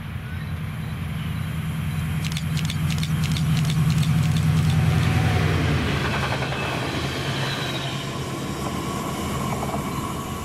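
Class 68 locomotive 68009 hauls a rail head treatment train past in Scotland, a loud steady engine rumble with rhythmic wheel clicks over rail joints that gradually eases as it moves by.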